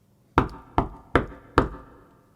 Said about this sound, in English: he heard a knock on the door